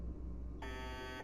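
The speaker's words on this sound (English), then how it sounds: "That alarm is super annoying." In the Fallout 76 video game, a continuous electronic alarm buzzes steadily, then jumps to a brighter, harsher tone partway through, loud and alone with no talking.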